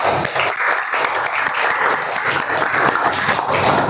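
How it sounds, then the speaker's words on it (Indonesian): A classroom of students applauds during a teaching-practice lesson, with dense, steady clapping at a close, even level for about four seconds. "tepuk tangan dong"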